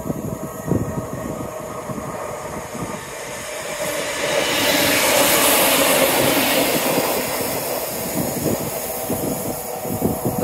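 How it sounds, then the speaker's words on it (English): A train rumbles past nearby, a loud continuous roar that swells in the middle with rhythmic clacking of wheels over the rails. "Lovely, first proper train of the day"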